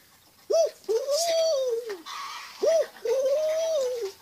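A voice imitates a pigeon's cooing: two rounded coos, each a short rising note followed by a long drawn-out moan, close and fairly loud.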